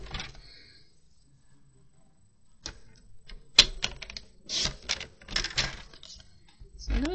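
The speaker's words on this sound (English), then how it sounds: "And now I need to trim it down." A paper trimmer slices through card for a simple Christmas card in a quiet room, a faint scrape first, then a sharp snap and a run of close clicks and clacks, the blade chopping and sliding in short bursts.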